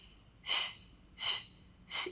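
Three steady, breathy exhalations during a Pilates exercise, evenly spaced and close to the mic, each rising and fading over about a quarter second with quiet pauses between.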